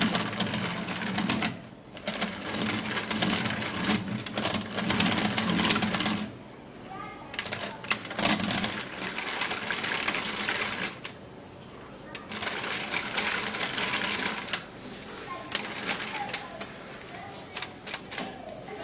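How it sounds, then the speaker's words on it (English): Handheld manual mixer whipping a homemade skin cream, a rapid whirring rattle in bursts with short pauses between them, while someone talks over parts of it. "I'm gonna grab my manual mixer so that it can mix really really well."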